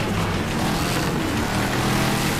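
Wrecked car in the demolition racing game Wreckfest with a damaged, burning engine and a wobbling bent front wheel, giving a dense, rough, continuous roar that stays loud throughout the short burst.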